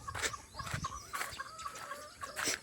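Several chickens cluck and chatter nearby in short bursts, a soft, busy mix of calls with quiet gaps between.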